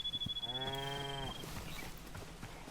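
Cows in the video game Hytale give a drawn-out low moo, with a thin high whine above it and soft thuds before and after, heard clearly and alone.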